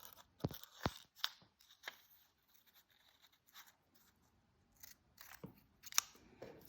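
Scissors snip through paper while a sewing pattern piece is cut out, giving crisp separate close-up cuts in uneven bursts with quiet gaps between them.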